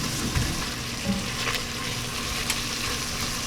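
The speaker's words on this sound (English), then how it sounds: "Now I turned the heat down a little bit, so we're just going to have a nice simmering soup" Tortellini and ham cream soup with tender vegetables gently bubbling on lowered heat in a Le Creuset cast iron Dutch oven, a soft steady simmer with faint occasional utensil taps, no talking.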